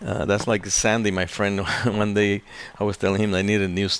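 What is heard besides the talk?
None of the usual background noises is heard.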